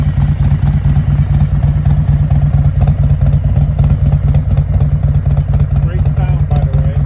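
A 2018 Harley-Davidson Road Glide S with an S&S air cleaner idles close by with a loud, steady, throbbing rumble, while a person talks over it.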